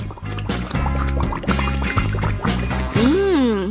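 Liquid sloshing and filling while food is cooked in boiling water, with wet pouring and bubbling movement that keeps up throughout, close and fairly loud, ending in a rising gurgle.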